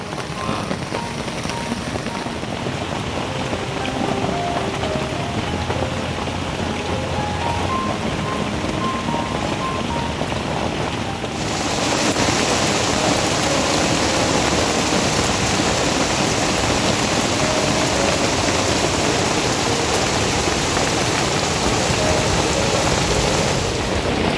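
Heavy rain pounds a wild camping tent at night, a dense steady roar that grows louder partway through, with faint distant rumbles beneath and no voices.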